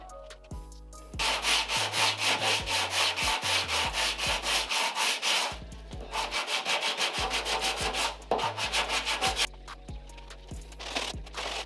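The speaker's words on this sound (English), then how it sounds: "so I've almost finished sanding down with the 240 grit now" Hand sanding a Honda Civic hatchback body panel with 240-grit sandpaper during paint prep, a close, loud, steady rhythmic scrubbing of repeated back-and-forth strokes with brief pauses between bursts.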